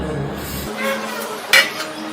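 A child washes dishes, with a sharp clink of pots and plates near the middle and softer clatter around it; no talk is heard.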